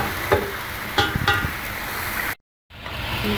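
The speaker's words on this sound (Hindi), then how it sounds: "मसाले को भून लें ताकि उसमें स्मेल ख़त्म हो जाए" Masala spices frying in a pan for chicken korma, a steady close sizzle with a few stirring scrapes, then a short silence before the sizzle resumes.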